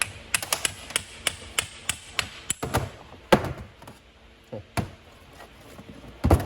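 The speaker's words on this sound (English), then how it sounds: "knock our piston rod out." Piston rod being knocked out of a PS 22/24 pump during a rebuild: a run of sharp metallic hammer taps, close and irregular, with several harder thumps spaced among them.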